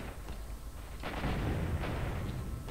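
A huge gun fires in the video game S.T.A.L.K.E.R., giving a heavy burst of booming, rumbling gunfire that swells after a quieter start and holds loud to the end, with no talking.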